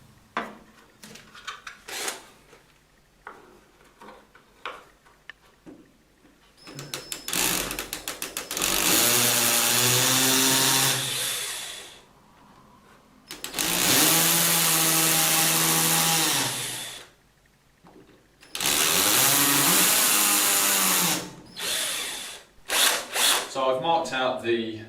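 A power drill bores into a wall to make holes for wooden curtain pole brackets, with three long, loud whining bursts separated by pauses, framed by quieter handling clicks and taps.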